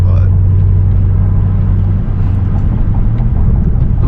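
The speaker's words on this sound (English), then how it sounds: "those downshifts sound so good." A BMW M550 engine rumbles low and loud from the driver's seat on open road, with throttle-blip downshifts shifting its pitch and a brief dip midway, under a voice.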